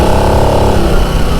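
A Harley-Davidson Sportster Nightster 975 motorcycle accelerating, a loud close engine drone with a steady pulsing rumble over a brief stretch of riding.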